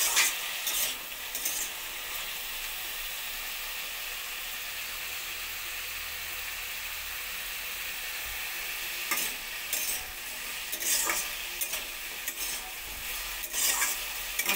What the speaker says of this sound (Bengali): আলু পটলটা একদমই ভাজা ভাজা করে নেব।